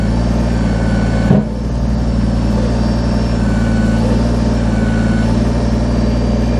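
A Kubota BX23S tractor idles steadily with its LA340 loader being lowered to the ground; a single brief thump sounds early on over the constant low engine rumble.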